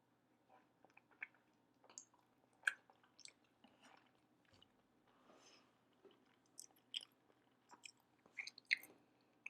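Salmon sushi dipped in wasabi and soy sauce being chewed up close, with soft wet squishes and occasional crunchy bites in a quiet room, no speech.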